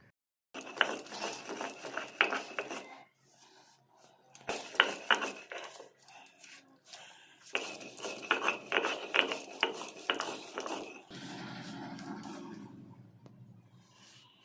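Spices for a spicy-sweet amla pickle are coarsely ground in short bursts, three dense rattling grinding runs of a few seconds each separated by pauses, followed by a quieter, lower whirring tail.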